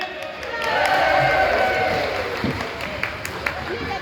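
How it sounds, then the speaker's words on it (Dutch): A crowd applauds and cheers for a choir standing behind the host, swelling to a dense wash of clapping, then thinning out with a few scattered claps. "mag ik allereerst alvast een daverend applaus voor al deze mooie mensen"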